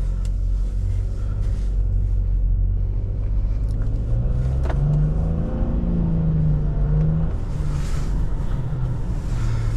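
A 2022 Nissan Rogue Platinum's 1.5-litre turbo engine pulls from low speed in auto mode, a muffled rising and falling drone over steady road and wind rumble heard from inside the cabin, with no talking.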